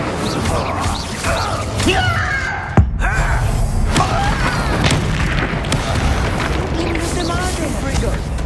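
Incendio fire spell blasts in the video game Hogwarts Legacy, with a sharp booming impact and crackling bursts amid ongoing game combat effects and voices.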